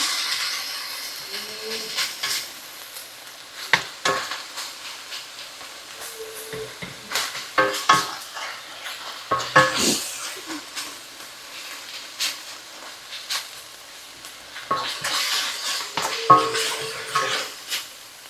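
Philly cheese steak filling for sliders sizzling in a skillet, a soft ongoing fry and hiss broken by scattered scrapes and clatters of a utensil against the pan, close and fairly quiet.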